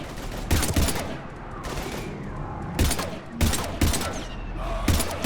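Bursts of gunfire from the video game Mass Effect 3: repeated loud volleys of rapid shots in separate clusters, with battle noise between them.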